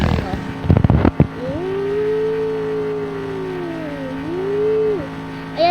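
Motorcycle engine in a Roblox video game, a steady buzzing drone whose pitch rises, dips and rises again over several seconds, following a short burst of clattering noise at the start.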